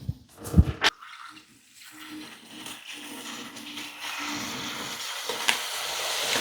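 Flameless ration heater in a Polish-supplied Ukrainian military MRE, soft steady hiss after water is added, faint and continuous, with a few handling knocks near the start.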